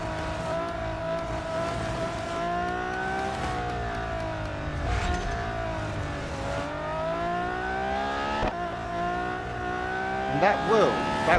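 Race cars in the Real Racing 3 mobile game drone steadily, with engines rising and falling in pitch as they shift gears, and brief tire squeals near the end.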